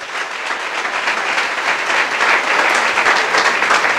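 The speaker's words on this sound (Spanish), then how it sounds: "una sus palmas y dele un fuerte aplauso al Rey" A church congregation claps loudly and steadily during a service, the applause swelling slightly as it continues.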